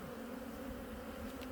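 Honeybees hum steadily and close by at an opened, populous overwintering colony during a winter hive inspection, a dense continuous drone with no voices.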